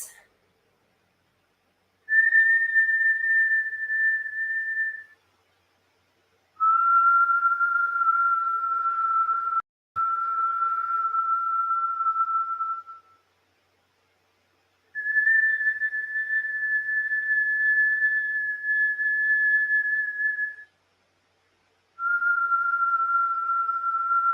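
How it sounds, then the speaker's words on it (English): A series of long, steady whistled tones made by breathing through pursed lips, each held several seconds with short silent pauses between, alternating slightly higher and lower pitches. "you're going to be breathing in and out through your mouth with puckered lips"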